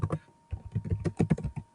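Rapid keystrokes on a Chromebook keyboard, a burst of close, crisp clicks followed by a steadier run of typing, alone with no voices.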